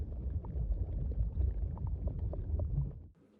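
A deep sea calm ambience loop rolls on as a low, murky undersea rumble with faint bubbly detail, steady and dark, fading out near the end.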